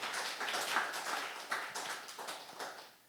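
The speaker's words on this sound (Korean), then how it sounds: "뜨겁게 우리 하나님께 감사의 박수를 치기 바랍니다" A church congregation applauding together, a steady patter of many hands clapping at moderate distance with a few louder bursts, no speech over it.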